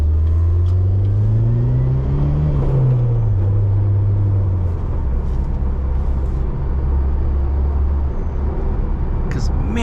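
Engine of a 2007 Pontiac Solstice GXP roadster heard from inside while driving, a steady low drone that rises in pitch then eases back and settles, continuous and fairly loud.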